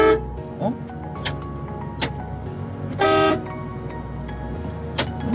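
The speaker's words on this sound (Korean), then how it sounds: "에어혼이 들어갔죠." A MAN TGM truck air horn gives several short toots and one longer, louder blast, separated by clicks and faint background voices.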